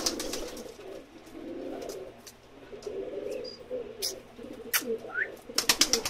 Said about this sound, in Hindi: छोटा बांका कबूतर